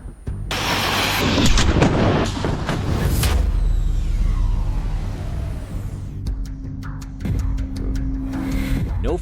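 A BMW X5 in a high-speed crash test strikes with a loud, broad impact burst, followed by crunching and rattling debris, then quieter settling with a few sharp clanks and a lingering low hum.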